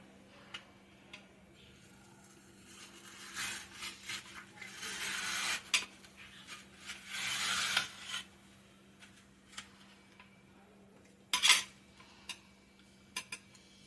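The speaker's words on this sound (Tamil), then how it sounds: "நல்லா சுரண்டி எடுத்துடலாம்ப்பா" A metal utensil scrapes cooked food from a pan during a home cooking of katralai kulambu, in irregular rubbing and clinking bursts, louder in the middle and ending with a few sharp clicks.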